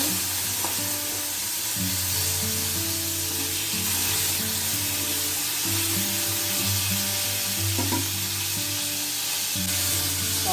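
Sliced tomatoes fry in a pan with cumin and nigella seeds for lentil dal, giving a continuous close sizzle with occasional stirring scrapes over a low steady hum.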